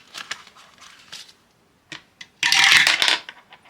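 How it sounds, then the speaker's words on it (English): Prop coins are dropped into a paper cash envelope, giving a few light metallic clinks followed by a louder rustling, jingling burst, close and crisp with no talking. "4 is getting 2 prop coins"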